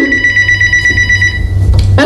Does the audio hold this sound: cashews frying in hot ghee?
no